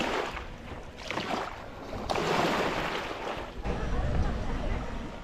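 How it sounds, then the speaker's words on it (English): Evening waves on Lake Victoria at Homa Bay County surge and crash onto the beach in loud, rolling washes that swell and recede, with a breezy rumble underneath. "The waters of Lake Victoria swell up as the evening tides and the sunset time waves pull together and send the waters crashing on the beach."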